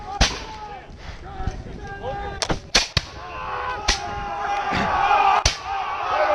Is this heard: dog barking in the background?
no